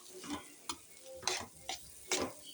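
Bitter gourds being tossed with masala in a pan, heard as a few distinct scraping stirs with soft sizzling between them, close and fairly quiet, no talking.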